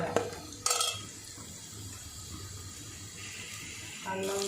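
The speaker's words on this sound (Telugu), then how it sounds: "ఇలా కలర్ వచ్చేంత వరకు ఫ్రై చేసుకోవాలి." Food fries in a pan while a spoon scrapes and clinks against the metal in a few sharp knocks, with a soft sizzle and kitchen clatter underneath at moderate level.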